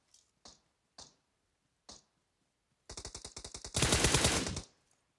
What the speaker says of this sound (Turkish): Buradan bir silah sesleri geldi.